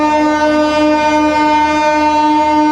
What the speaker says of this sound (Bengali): ওই ট্রেন চলে গেল